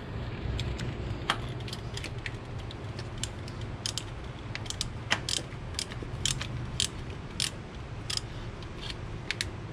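A ratchet clicks steadily as it turns on an oil pressure sensor of a Mk4 GTI, close and continuous rapid ratcheting over a constant engine-bay hum.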